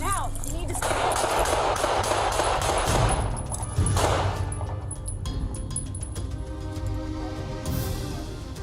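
Gunfire captured on CCTV during a police shooting incident, several loud sharp bursts in the first few seconds over a dense background, followed by quieter chatter and noise.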